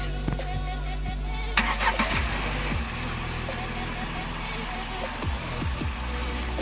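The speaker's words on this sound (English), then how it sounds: "Let me show you how much sound the engine makes." A Tata Tiago 1.2 litre Revotron three-cylinder petrol engine cranks and starts, then settles into a steady, moderately loud idle with a few light blips, close by and without talk.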